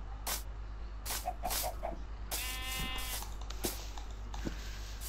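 A Minecraft sheep lets out a clear wavering bleat in the middle, close and moderately loud over a steady low game hum, surrounded by short bursts of clicks and hits.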